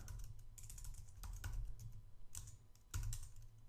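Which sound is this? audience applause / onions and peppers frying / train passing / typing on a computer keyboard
typing on a computer keyboard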